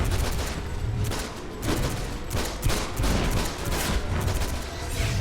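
Rapid bursts of gunfire from the video game DC Universe Online, with dense overlapping volleys continuing without a break at a loud, steady level throughout.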